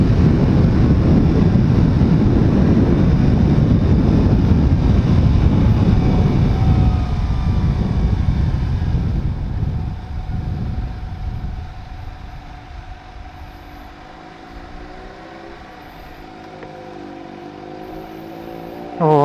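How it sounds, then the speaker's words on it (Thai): A Suzuki GSX-S750 four-cylinder motorcycle engine pulls hard with loud wind rush, then eases off into a smooth, lower rumbling idle-like hum that holds steady before a brief burst at the end. "อารมณ์สี่สูบชัดๆ เสียง หวานเจี๊ยบ เลย"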